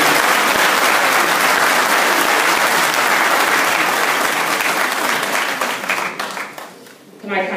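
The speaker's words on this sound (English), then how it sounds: "can we all give a round of applause for wonderful journalists and so for that welcome" Sustained audience applause in a hall at a UK diaspora gathering welcoming the Gambian president, loud and dense throughout, thinning into scattered claps near the end.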